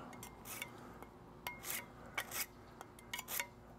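A knife drawn through a sharpener a handful of times while cleaning a pompano catch, giving quick, faint rasping strokes in a loose rhythm, close by with no talk.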